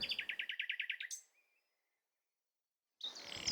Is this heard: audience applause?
no